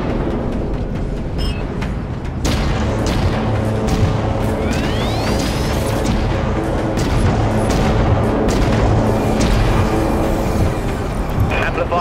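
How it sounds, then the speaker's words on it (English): Catapult weapon firing in the Dreadnought space-combat game, a dense, loud booming barrage over a constant rumbling engine bed, with a sharp onset near the start and sweeping tones layered throughout. "Firing catapult."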